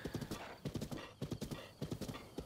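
Horse hooves from the video game Zelda: Breath of the Wild clop in quick rhythmic clusters of galloping beats, close and clear, with brief gaps between strides.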